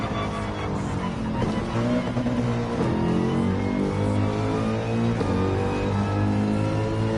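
Mercedes-AMG race car in Gran Turismo 7, its engine droning and shifting pitch through gear changes, with faint tire scrub, continuous and close, no voices.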